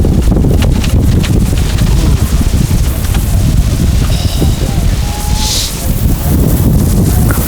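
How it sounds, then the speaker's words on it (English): Strong wind buffets the microphone in a constant loud roar during a rowing race, gusting throughout with no pauses. "Very windy, very stiff headwind."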